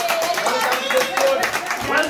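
A small group claps together to welcome a newly met couple at a friends' staycation getaway, a brief burst of close, lively hand-clapping under chatter.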